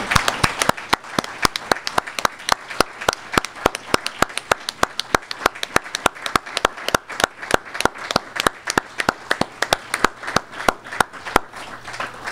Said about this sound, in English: I would like to have all the students please stand up as we applaud you.